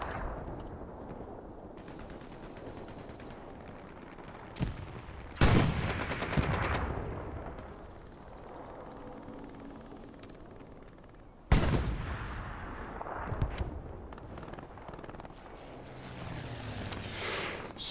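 A Stuka dive bomber strikes in Hell Let Loose: a descending whine, then two heavy blasts about six seconds apart, each followed by rumbling debris against steady background battle noise.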